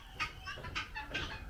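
Guinea fowl kept on a farm give three quick, harsh, raspy calls in a row, moderately close over a low background hum.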